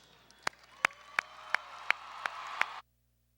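A crowd at a fall commencement ceremony applauds the graduates: a steady wash of clapping from many hands, with a few sharp, louder claps standing out at a regular beat, before it cuts off abruptly.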